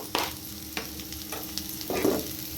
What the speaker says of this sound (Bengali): এখন মাংসের টুকরোগুলোকে আমি এখন ভেজে রাখা পেঁয়াজের মাঝে দিয়ে দেবো